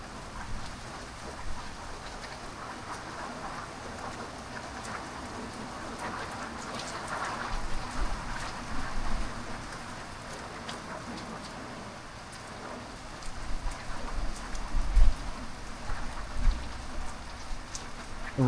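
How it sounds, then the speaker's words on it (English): Heavy rain pours steadily during a thunderstorm, a dense hiss of drops on surfaces with low rumbling swells and a few brief thumps near the end, no talking. "The rain's sort of become regular, passive."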